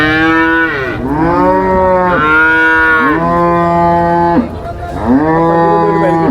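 A Jersey bull at a cattle market moos loudly and close, four long drawn-out bellows with brief gaps between them, and a faint murmur of the market behind.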